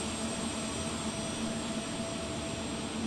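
Beechcraft Premier 1A business jet engines heard in flight over an airfield at circuit altitude, a steady loud whine with a constant hum, continuous and unchanging.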